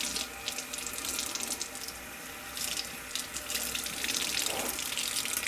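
Water runs from a tap to fill a container for watering houseplants. The stream is a steady close splash and gurgle that rises and falls a little in force, with no voices.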